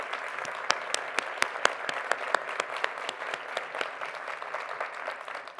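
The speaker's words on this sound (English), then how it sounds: "Can we please have one more round of applause for our musicians?" An audience at a university address claps for the musicians, a warm steady round of applause with crisp individual claps, moderately loud and without voices, fading slightly toward the end.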